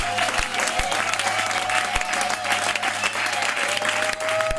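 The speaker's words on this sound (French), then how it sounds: "Est-ce que nous pouvons acclamer le Seigneur?" A church congregation applauding steadily throughout, a dense roomful of clapping with occasional voices and a sustained tone underneath.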